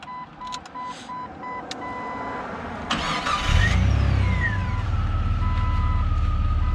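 A 2001 stone-white Jeep Cherokee Classic with 125,000 miles: a few electronic chime beeps, then the engine cranks and catches with a loud lurch and settles into a steady, close idle rumble.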